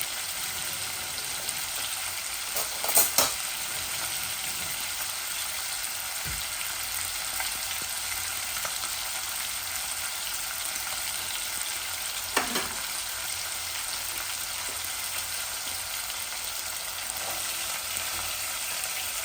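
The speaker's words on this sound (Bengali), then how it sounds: "আর ও তেলের মাঝে বসাই দিব তরকারি" Bottle gourd curry fries in hot oil in a Bangladeshi tilapia dish, a steady, even sizzle with a few faint clinks of a utensil along the way.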